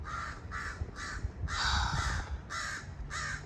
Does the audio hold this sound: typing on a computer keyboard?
no